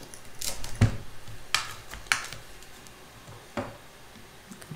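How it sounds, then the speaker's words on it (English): A knife cuts a small piece of savory pizza, giving a few sharp, separate clicks and taps of the blade on the crust and the board, close by, with no talk. "I'm gonna cut a little piece of the savory."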